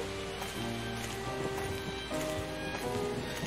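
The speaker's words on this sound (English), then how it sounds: "Look how it's raining." Steady rain falling in a forest in a Sherlock Holmes video game, a continuous dense hiss that fills the scene at even loudness, with faint game tones underneath.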